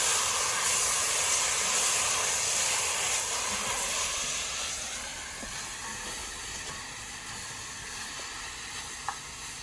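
Posole verde ingredients seasoned heavily with pepper, salt and garlic sizzle steadily in a hot pan over medium-high heat on a camp stove, a broad hiss that is loudest at first and eases slightly, with no voices.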